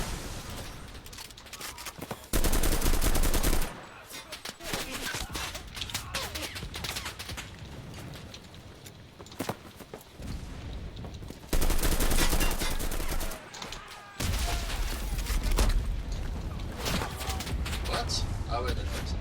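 Gunfire in the World War II shooter Enlisted: bursts of rifle and machine-gun fire crackle through much of the stretch, with louder, denser volleys in places, mixed with talk.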